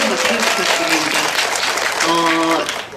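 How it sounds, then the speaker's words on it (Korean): An audience applauds continuously at a film screening Q&A event in Korea. The clapping is loud and sustained, and a voice or tonal sound rises over it near the end. "박수 부탁드립니다"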